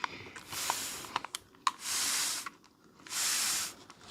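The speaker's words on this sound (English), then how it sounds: "I'm finna just go ahead and spray your hair." A handheld spray bottle mists water onto thick hair in two long, steady hissing bursts, heard close and alone between soft rustles.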